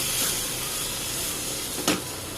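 Masala sautéing in oil in a pan for a Thirunelveli-style karuvattu kulambu, giving a steady close hiss and sizzle throughout, with a brief louder crackle near the end and no talk.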